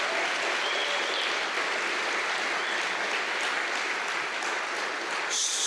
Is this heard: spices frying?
no